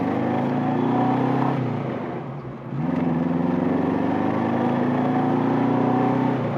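Vintage Saab Sonett sports car accelerating through its gears, the engine loud and close with steady harmonic drone, a brief dip around a gear change, then pulling hard again.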